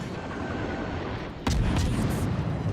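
A warship's big guns fire in World of Warships with a single loud, close boom partway through, rolling into a deep rumble over constant engine and sea noise.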